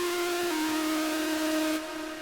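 A synth lead from Massive, made for melodic dubstep, holds a steady bright tone with a buzzing, hissy upper layer, loud and continuous before the top end suddenly thins near the end.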